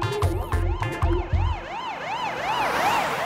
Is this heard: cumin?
no